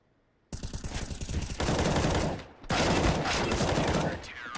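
Rapid gunfire from Counter-Strike: Global Offensive during a professional CCT North Europe playoff match on Vertigo or Ancient, as pistol rounds mow down players; dense bursts of shots ring out loudly and continuously after a quiet start, with a brief dip midway.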